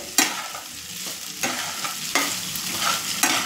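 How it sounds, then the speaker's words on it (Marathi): Sabudana being stirred into a hot tempering in a pan, with a spoon scraping and tossing in repeated strokes over a steady close sizzle; no voices. "त्या फोडणीमध्ये आता आपण हे साबुदाणे सर्व मिक्स करत आहोत"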